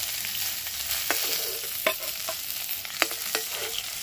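Cauliflower fries with turmeric in a pan, a constant sizzle broken by several sharp scraping stirs of a spatula, near and alone without speech.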